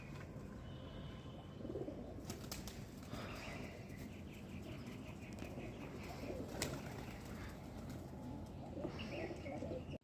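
Pigeons coo faintly on a foggy winter rooftop, soft repeated calls under steady background noise with scattered bird chirps and a few sharp knocks.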